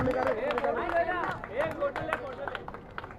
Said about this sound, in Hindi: हमारे डॉक्टर माजिद साहब के लिए एक बार जोरदार तालियां होनी चाहिए